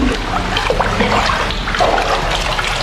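Water in a thermal spa bath splashes and sloshes steadily and up close as a woman climbs out, a dense continuous wash of liquid sound.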